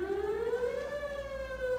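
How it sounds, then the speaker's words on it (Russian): Air raid siren in a Russian animated cartoon, a single sustained wailing tone that rises slightly and holds steady, loud and alone with no talk. "Ура, сирена, наконец-то!"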